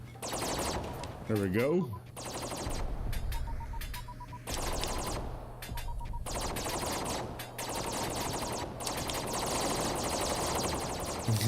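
Rapid bursts of automatic gunfire from a shooter video game on a Cornucopias land, loud and repeated across the whole stretch, with someone talking over and between the shots.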